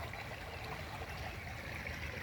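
Sulfuric hot spring water flowing out of a rust-stained, steaming outlet, a faint steady trickling rush with no talking over it.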